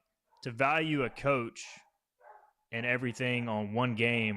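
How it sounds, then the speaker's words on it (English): Pet dogs bark faintly in the background, a couple of short distant barks in a gap between a man's close, continuous talking. "you can probably hear my dogs barking in the background"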